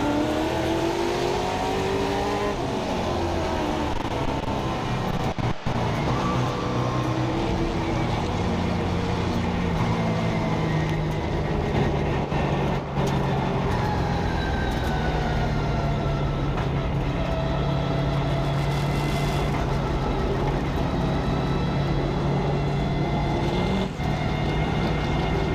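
Late model race cars roar off at the green flag of an 8-lap heat race at Midvale Speedway, a loud, sustained pack of engines rising and falling in pitch as they accelerate past.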